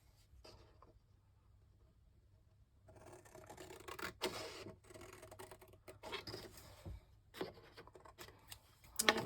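Paper or card being cut by hand with scissors, quiet at first, then a run of close, uneven snips and scratchy rustles without speech.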